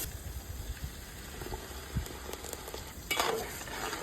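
Whisked yogurt is stirred into sautéed masala in a pan while paneer lachhedar is being made. A soft sizzle and stirring scrapes run throughout, followed near the end by a louder burst of sizzling and bubbling.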